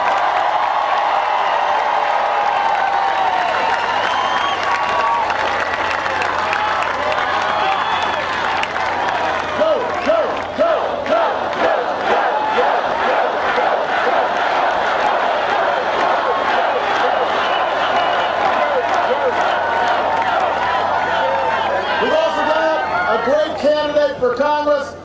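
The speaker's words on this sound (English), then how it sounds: "So I want you to give him another big round of applause." A large rally crowd in Ohio applauds and cheers at length, a loud continuous roar of clapping and shouting voices with chanting-like surges rising and falling over about twenty-five seconds.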